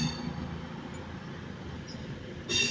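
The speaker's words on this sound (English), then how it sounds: "So there goes the 1325 cross country service to Bournemouth, 22124." CrossCountry train 22124, the 13:25 service to Bournemouth, pulls away from a platform at Manchester Piccadilly with a steady low rumble that holds throughout, and a brighter hiss rises near the end.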